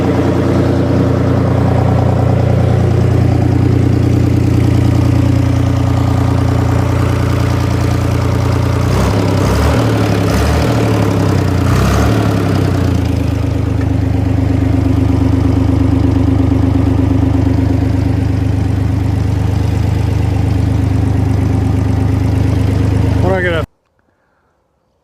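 A 1974 O&K MH3 excavator's diesel engine runs loud and close, a steady low rumble with a stretch of clattering knocks in the middle, then cuts out abruptly near the end.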